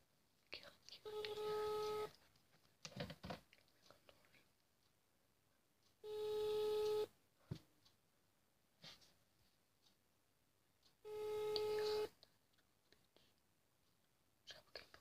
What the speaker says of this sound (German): So, jetzt rufe ich es nochmal an hier.